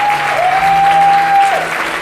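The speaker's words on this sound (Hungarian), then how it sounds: "Majercsik Lili, egy nagy tapsot kérünk neki." An audience claps in a hall at a singing contest results announcement in Ajka, Hungary, with dense, steady applause throughout and a faint tone held in the background.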